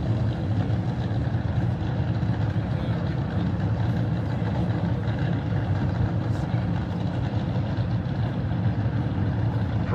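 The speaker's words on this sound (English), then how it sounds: "Now the RPM's gonna start coming up. Hear it over there in that Screamer." A drag racing car engine drones loud and steady nearby at a drag strip, a continuous low rumble that holds without clear revving peaks.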